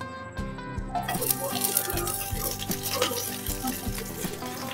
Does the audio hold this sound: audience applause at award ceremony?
no